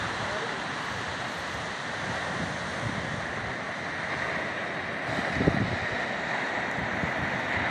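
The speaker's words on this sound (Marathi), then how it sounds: "फक्त लाटा।" Sea waves wash steadily onto a beach, a continuous broadband roar with wind buffeting the microphone and a slightly louder surge about five seconds in.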